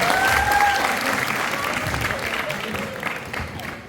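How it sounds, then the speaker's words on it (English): Sustained applause from a large audience, dense and even, with a few whoops over it before slowly tapering off. "give themselves a round of applause for this amazing event"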